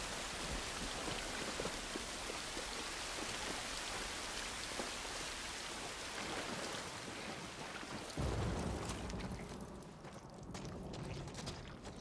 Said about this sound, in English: We're out of the rain.